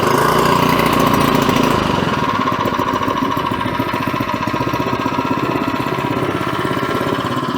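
A small engine fitted as the new motor for a scuba compressor starts with the choke on and runs at a loud, rapid, steady chugging clatter close by, the tone settling slightly after the first two seconds.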